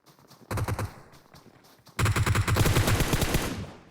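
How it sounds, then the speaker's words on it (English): Automatic gunfire in a competitive tactical shooter match, heard as a short burst of rapid shots followed after a pause by a longer, louder sustained volley, with no talk over it. "Asen does return fire there."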